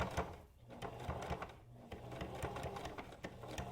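A sewing machine back stitches along the edge of a fabric face mask, a quiet, rapid mechanical rattle of needle strokes with brief pauses between short runs.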